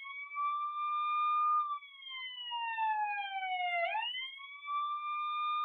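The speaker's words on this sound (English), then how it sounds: "And the siren has two different noises." A two-tone electronic siren from an Our Generation toy ambulance wails steadily, its pitch sweeping down then snapping back up, loud and close with no talk.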